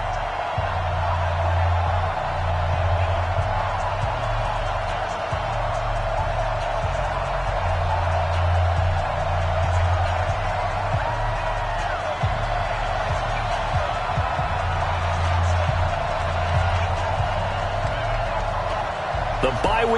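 A stadium crowd in an NFL video game matchup between the Denver Broncos and Chicago roars as a steady, wide wash of cheering, with a commentator talking over it throughout.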